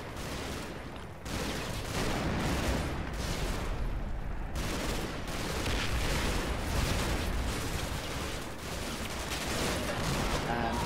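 Sustained simulated gunfire, including Sten submachine gun bursts, rips through a hedgerow in the Combat Mission: Battle for Normandy wargame, a dense near-continuous barrage of shots with a brief lull early on, loud throughout and carrying no speech.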